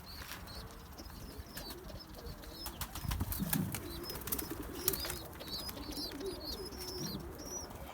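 Large Posta pigeons in a loft give soft low coos while wings flap in brief bursts, one louder flurry midway, against a faint outdoor background.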